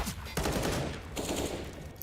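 Bursts of pistol fire from a Counter-Strike match on the Train map, rapid clustered shots with sharp cracks in two volleys over a busy in-game background, alongside an excited commentator's voice.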